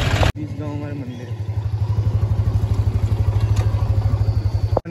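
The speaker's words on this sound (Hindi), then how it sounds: "ट्रैक्टर आ रहा है" A tractor on a village road gives a loud, steady, rapid diesel thumping that stays close throughout, its engine pulsing in an even rhythm with a rattly clatter over the top.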